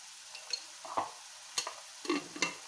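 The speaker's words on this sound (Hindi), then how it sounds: "सबको मैं चला के इस प्रकार मैं मिक्स करते जाऊंगी और जब तक तेल नहीं छोड़े तब तक इसको भूनना है" Spiced masala fries in oil in a pan for paneer kofta, with a spoon scraping and stirring in short, separate strokes over a faint sizzle. No one speaks.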